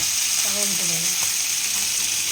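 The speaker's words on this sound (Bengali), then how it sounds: "মা মাছ রান্না করছে হোক তেল মনে হয় ভালো গরম হয়নি" Fish frying in oil that is not yet fully hot makes a steady, fairly loud crackling hiss, with a brief faint voice over it early on.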